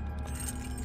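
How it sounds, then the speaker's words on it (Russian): Keys jangle briefly as they are picked up in the stealth game Thief 2: The Metal Age, a short metallic clink over a steady low game ambience. "Ключик."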